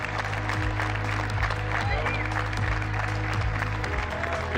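Keynote audience warmly welcoming cycling legend Fabian Cancellara, a loud continuous roar of clapping from a large crowd in a hall, steady throughout with some voices mixed in.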